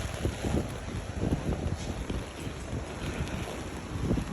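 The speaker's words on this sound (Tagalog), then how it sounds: "windy Jerusalem today." Wind gusting on a rainy winter day in Jerusalem, a constant rough rush with heavy buffeting on the microphone and low rumbling; no one speaks.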